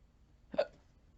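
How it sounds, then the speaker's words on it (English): A single short, close burp, a sudden voiced gulp that fades quickly into room quiet. "that was a big burp"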